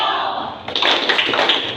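A group of people does the rhythmic Coca-Cola clap chant, sharp claps in a quick patterned burst after a quieter start, with voices mixed in.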